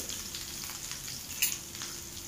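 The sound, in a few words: garlic and chillies frying lightly in a pan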